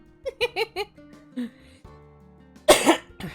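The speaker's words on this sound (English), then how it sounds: "You will hear me cough a bit, but it's normal." Several short, throaty coughs in quick succession, close to the mic, followed later by a louder, harsher burst, with quiet background tones between.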